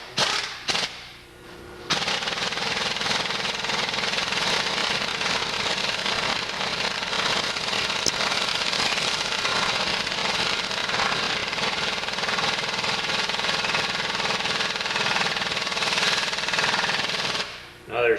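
An impact wrench hammers a socket onto a front bearing greaser fitting, a loud rapid rattling burst that holds steady for about fifteen seconds, then stops abruptly.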